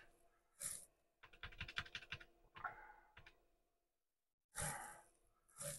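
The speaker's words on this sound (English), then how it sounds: "using this somewhat mangled keyboard" Keys clatter in quick bursts on a somewhat mangled computer keyboard used with a Commodore Amiga, close and fairly quiet. Breathy pauses and a short silence fall between the runs of typing.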